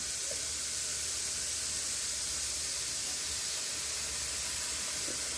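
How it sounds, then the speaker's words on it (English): Pork sears in a hot pan with a steady, close, even sizzling hiss that stays constant throughout, with no talking. "Let me let these sear"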